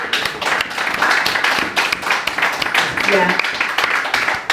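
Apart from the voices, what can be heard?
audience applause at a poetry reading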